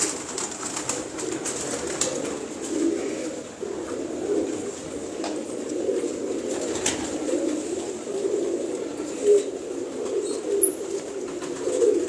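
Pet pigeons, including cross-bred birds, coo continuously nearby in a soft, overlapping, rolling murmur with occasional faint rustles.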